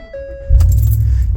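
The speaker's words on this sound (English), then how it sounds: "Let's go ahead and start her up." A pickup truck's engine cranks and catches after warning chimes, settling into a loud, close, steady idle rumble. No one speaks.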